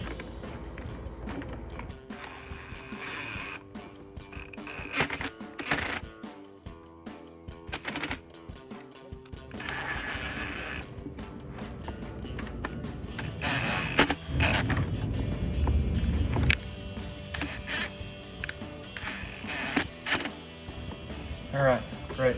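Hose clamps are tightened on a K&N Series 77 cold air intake in a 2015-2023 Ford F-150, with intermittent close creaks, clicks and ratcheting bursts between pauses and a voice at times.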